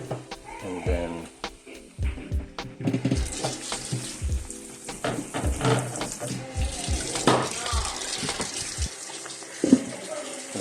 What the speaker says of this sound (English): I'm going to add a little bit more water and let it steam one more time.